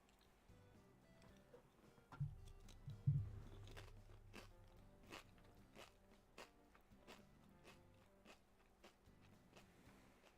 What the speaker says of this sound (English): Maybe pickle chips were not the move. They are very crunchy.